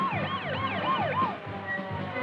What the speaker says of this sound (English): soon an ambulance speeds the injured to a nearby hospital